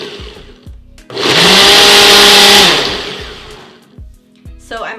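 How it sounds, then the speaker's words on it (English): Kitchen blender extracting a spinach detox smoothie: a loud, steady motor whir ramps up, holds for about two seconds, then winds down, with short clicks and brief bursts before and after. "We're gonna push the extract button because we've got the spinach and everything in there."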